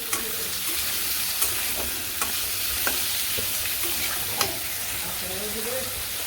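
Vegetables frying in a pan for a vegetable khichuri, a steady close sizzle with occasional sharp clicks and scrapes of a stirring spoon against the pot.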